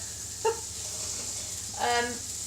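Burger patties fry in a pan with a steady, faint hiss, and a couple of brief louder spits rise above it. Nobody speaks.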